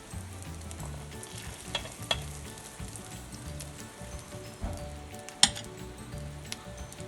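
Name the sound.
egg paniyaram frying and being flipped in pan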